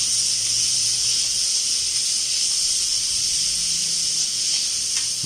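Tomatoes hit a hot pan for poha (avalakki chitranna) and sizzle, producing a steady, loud, even hiss that continues without a break.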